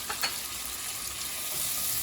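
Chopped medium tomato hitting garlic browning in a pan, a steady, close frying sizzle with a brief burst as the tomato lands and is stirred.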